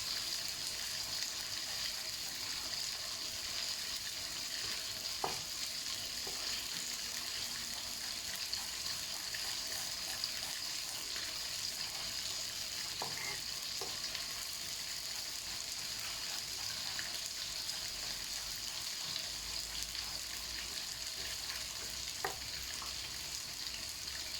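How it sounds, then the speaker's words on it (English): Ginger and garlic frying in a pan for Thai-style crispy pork give a steady, close hiss of sizzling oil that carries on evenly throughout, with a few faint stirring knocks. "ginger and the garlic being quite chunky, because you do fry them a little bit."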